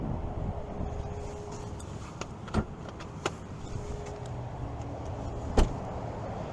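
The heater in a 2023 Nissan Ariya Empower+ electric car runs on a freezing day: a steady, moderately loud blowing whoosh with a few soft clicks and knocks, no voices.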